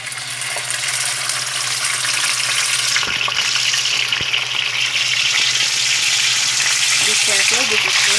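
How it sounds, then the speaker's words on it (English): Bangus (milkfish) steak frying in a hot pan, giving a steady, loud sizzle and crackle throughout, with a low constant hum underneath and a few faint knocks. "So now let's start with the frying."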